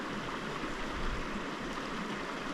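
The East Dart river on Dartmoor flows steadily with a broad, continuous rushing and gurgling wash, close and even throughout with no voices.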